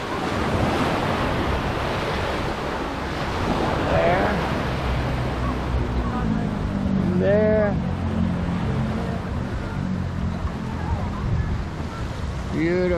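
Surf washing onto Naga Beach in Samar, Philippines, a steady broadband roar of ocean waves with wind buffeting the microphone, while people talk briefly over it.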